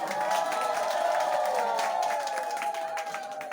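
A crowd gives loud, sustained ululation, wavering high voices sliding together, over a bed of clapping, in honour of a performer at a stage event.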